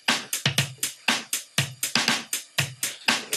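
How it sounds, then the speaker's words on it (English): A programmed funk break pattern of MIDI snare and hi-hat hits plays in a quick, syncopated, steady groove. The hits are crisp and punchy with sharp attacks and short decays, close and alone without talk. "we basically took the funk breaks and midified them, so with a snare and a hi-hat"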